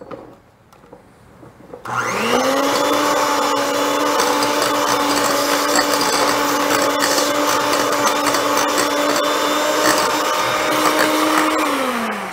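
An electric hand mixer creams Crisco, butter and eggs in a bowl, starting after a short quiet lead-in and holding a loud, steady whirring motor whine for about ten seconds before it winds down.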